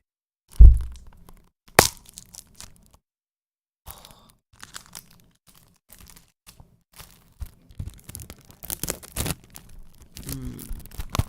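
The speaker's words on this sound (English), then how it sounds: "give some nice, paper cutting ASMR" Paper being cut with scissors for ASMR, sounding as sparse, close crisp snips and crinkles, with one sharp crack near the start and quieter rustling snips scattered through near-silence.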